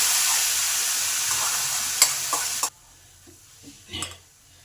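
Boiled pea lentils go into frying turmeric in a pan with a loud, close sizzle and stirring scrapes. The sizzle drops sharply partway through, leaving quieter clinks and stirring.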